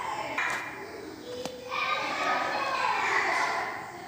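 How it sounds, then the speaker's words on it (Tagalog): Children shout and play noisily in a school corridor, a continuous distant clamor of young voices with a sharp ping partway through. "Yan ang ingay ng mga bata."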